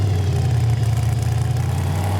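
A lifted purple Plymouth gasser's engine runs loud and close, a deep throbbing rumble that holds steady as it pulls through a gear shift.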